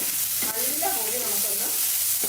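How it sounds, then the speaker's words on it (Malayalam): Onions and tomato sauté in a pan for cauliflower kurma, a loud close sizzle under scraping stirs of a spoon that rise and fall, no voices. "മുമ്പാട്ടിയ സവാളയും കൂടെ നമുക്ക് നല്ലപോലെ ഒന്ന് വഴണ്ടി വെക്കാം"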